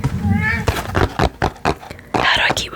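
A house cat meows close by in a quiet room, with a few short cries mixed among speech from a nearby talker.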